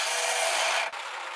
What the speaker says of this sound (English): you'll know that it is a spur gear. The plastic spur gear has stripped.